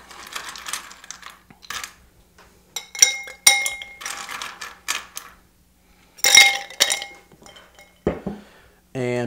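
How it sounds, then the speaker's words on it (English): Ice cubes dropped into a cocktail mixing glass while making a Gimlet, giving a run of bright clinks and rattles in several bursts, with quieter gaps between them. "so we're going to add our ice now"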